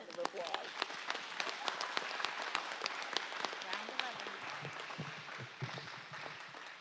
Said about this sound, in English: Let's give the girls a break and a round of applause.